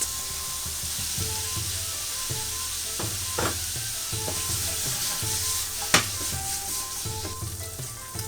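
Carrot stir-frying in a pan for yaki udon, a close, continuous sizzle broken by irregular scrapes and clatters of the utensil against the pan, with no voices.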